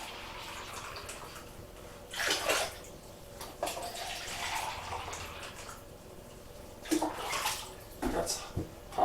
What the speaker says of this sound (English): That's hot water.